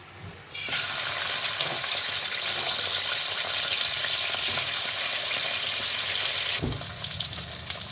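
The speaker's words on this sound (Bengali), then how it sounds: "এবার আমি মাছটা ভেজে নেবো" Fish fries in hot oil in a pan with a sudden loud sizzle that holds as a steady close hiss for several seconds, then drops off abruptly after a bump.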